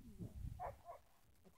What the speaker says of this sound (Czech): To je můj pes.